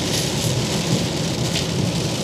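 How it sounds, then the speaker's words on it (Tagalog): A sudden heavy rain downpour heard from a car on a road to Vanderhoof, Canada, a dense, constant roar of rain drumming on surfaces, loud and unbroken, with no voices. "Ayan, maulan, no? Narinig nyo? Biglang buhos."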